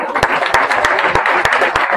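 A church congregation claps together in steady, dense applause, loud and close, with some individual hand claps standing out and no talking over it.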